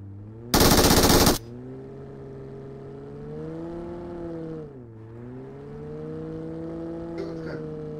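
An MG3 machine gun fires a single short, loud burst in a video game, followed by the steady drone of a vehicle engine that dips and rises, with no talk.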